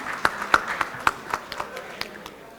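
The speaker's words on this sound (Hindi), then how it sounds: "तालियां बजा दीजिएगा डॉक्टर इमरान ताज साहब के लिए" A handful of separate, uneven hand claps from a small audience at a fire safety awards convention, sparse and irregular over a quiet room background.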